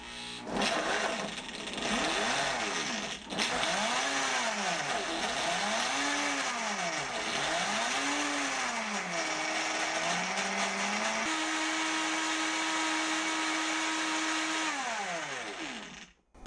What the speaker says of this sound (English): Press the third button for blending only.